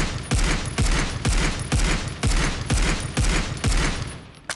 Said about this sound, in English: You can also tap fire with this thing.